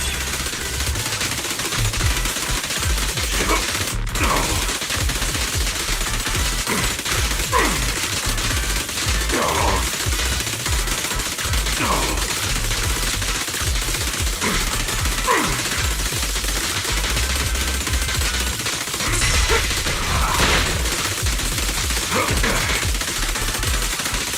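Sustained gunfire in the action game Zenless Zone Zero, a dense continuous barrage of rapid shots over a loud battle bed with faint voices beneath.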